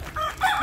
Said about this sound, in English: That's a big fat chicken.